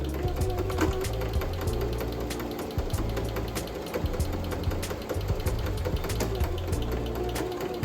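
A sewing machine runs in steady rapid bursts as fabric ruffle strips are stitched together, the close mechanical whir stopping and restarting briefly with no voices.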